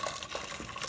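Water pouring into a Pressure King Pro electric pressure cooker pot, a steady close splashing fill that runs evenly for a moment with no talk.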